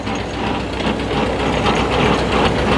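A duplex chain drive powered by a tractor PTO runs with a steady dense mechanical clatter and rattling over a low engine drone, loud and continuous throughout.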